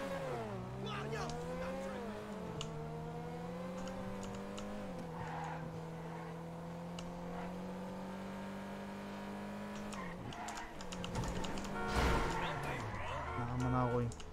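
Car in GTA V driving with a steady engine drone that shifts pitch a few times, ending with tire squeal and a rough burst of revving and impacts, while people talk over it.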